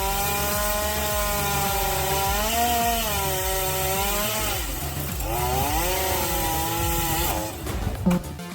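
A very large chainsaw on a logging machine cuts through a giant tree trunk, its engine droning loud and steady with rising and falling pitch as the bar bites into the wood, with no talking.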